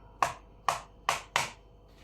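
A knife dices peeled avocado on a board in four crisp, evenly spaced chops, close and clear, with no talking.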